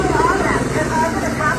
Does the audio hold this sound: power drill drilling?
no